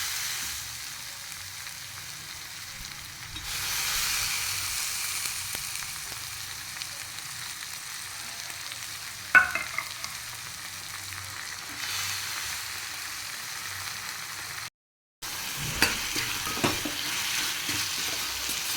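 Ridge gourd frying in a pan as soaked moong dal is added and stirred, a low sizzle with occasional scraping and clinks of a spoon, then a brief silent gap before the sizzling resumes.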